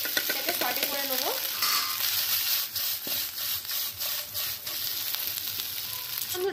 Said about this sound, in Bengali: এবার এই পিঠেগুলো যে সিদ্ধ করেছি এগুলো এর মধ্যে দিয়ে দেবো, দিয়ে হালকা করে এটাকে সটে করে নেবো।